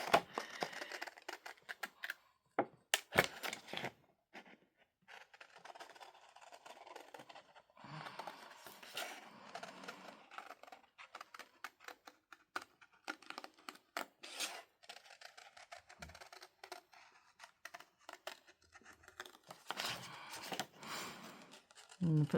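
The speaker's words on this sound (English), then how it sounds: "So I'm going to cut this target out first." Scissors snip through a paper target for a junk journal, a sparse run of small crisp cuts and paper rustles, close and quiet, with gaps of near silence between bursts.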